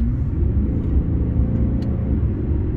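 A BMW G11 7 Series with a Thor active exhaust set to the BMW X6 Sport sound, a deep steady engine rumble held close and loud throughout with no audible rise in revs.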